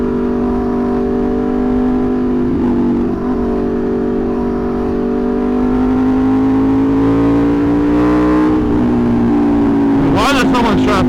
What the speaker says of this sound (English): Why is there so much traffic right now?